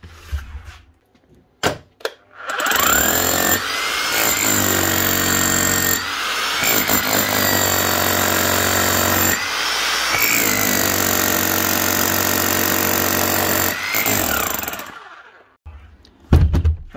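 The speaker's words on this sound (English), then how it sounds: "One Bosch hammer, GBH 5/40 DE, with a full strip down and service." A Bosch GBH 5-40 DE rotary hammer, freshly stripped down and serviced, runs in hammer mode: a loud, close, continuous hammering roar in long runs with brief pauses between, plus a few short blips before it starts and after it stops.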